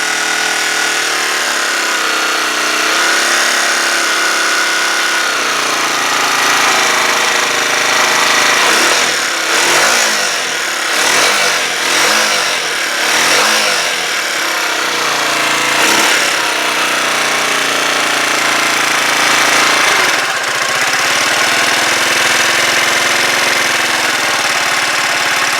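A Huoniao HN125 motorcycle engine idles loud and close after an idle adjustment, a steady rough chugging drone with a stretch of uneven knocking pulses partway through, running alone without voices.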